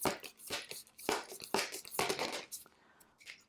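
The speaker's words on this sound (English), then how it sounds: "Okay, so I'm going to do a live shuffle for these." Tarot cards are shuffled live by hand, giving a quick series of crisp, papery slaps and riffles in uneven bursts, fairly close and quiet, fading out toward the end with no talking.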